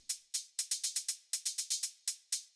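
Three stacked techno hi-hat layers with LFO-randomized attacks give an organic, uneven groove: bright hissy hits in irregular clusters, some crisp and some softer, playing alone without any voice.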